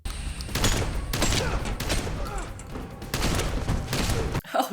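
Gunfire in the movie John Wick: Chapter 3 – Parabellum: loud, rapid bursts of shots and thuds from a close action scene, continuous and dense, with faint voices mixed in.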